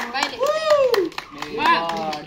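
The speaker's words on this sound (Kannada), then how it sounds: "ಚಪ್ಪಾಳೆ" Hand clapping at a child's third birthday celebration rings out in short bursts amid singing and children's voices, fairly close.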